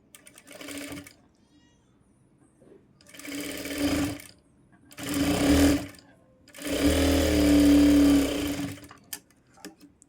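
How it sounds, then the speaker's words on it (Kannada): A sewing machine stitches a double-folded fabric strip in four separate runs that grow longer, each a close, steady mechanical whir with quiet pauses between. "ಒಂದು ಸ್ವಲ್ಪ ಗ್ಯಾಪ್ ಬಿಟ್ಕೊಂಡು ಸ್ಟಿಚ್ ಮಾಡ್ತೀನಿ"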